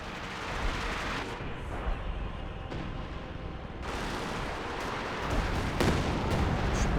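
An artillery barrage in Company of Heroes 2, dense continuous rumbling blasts with overlapping booms, loud and sustained, swelling slightly near the end.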